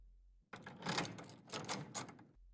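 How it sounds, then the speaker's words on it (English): A door is locked: about two seconds of close rattling clicks and clunks from the latch and handle, with quiet before and after and no voices. "walking over to the door and locking it"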